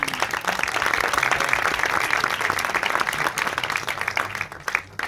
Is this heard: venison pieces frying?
no